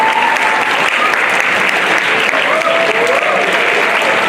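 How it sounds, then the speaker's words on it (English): A standing school audience at a UAE National Day high school event gives loud, sustained applause for a school leader, dense clapping filling the whole stretch with faint voices mixed in. "Please stand up and give a huge round of applause to Ms. Green."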